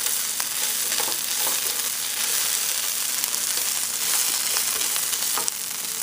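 Okra curry fries in a pan with tomato paste mixed in, giving a steady, dense sizzle throughout with occasional faint utensil clicks.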